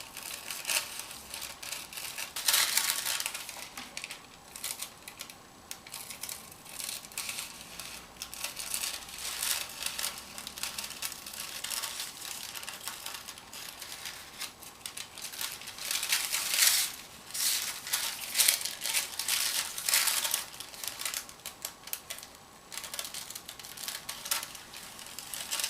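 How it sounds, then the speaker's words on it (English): Scissors snip through thin tissue paper for a model ornithopter's wings and tail, producing close, intermittent crinkling and cutting rustles with short pauses between bursts. "So now we'll cut out the tissue for the wings and tail."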